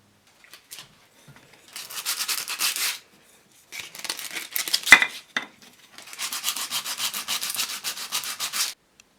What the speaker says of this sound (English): Now I can go in there and sand it, work my way up through the grits